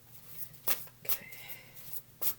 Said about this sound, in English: I'm not trying to waste this much time shuffling for everybody